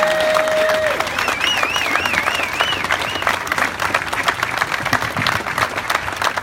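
Crowd at the opening of a carousel in Albany applauds and cheers for Wendy Kirby, a dense, steady wash of clapping with whoops and a whistle, loud and continuous throughout.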